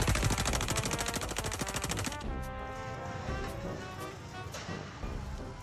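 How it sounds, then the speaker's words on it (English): A rifle is fired at packs of beer in a rapid string of sharp, loud shots over about two seconds, then the echoing reports and debris fade, with a couple of fainter cracks after. "posted a video of himself shooting a rifle at packs of beer"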